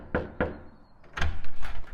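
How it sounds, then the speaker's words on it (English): Knocking on a door, two sharp separate raps followed by a louder cluster of heavier thuds and knocks, close and clear with no talking. "Do you hear that knocking?"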